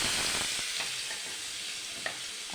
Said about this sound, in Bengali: এবার আমি এক এক করে মাছগুলো হালকা করে ভাজা করে নেব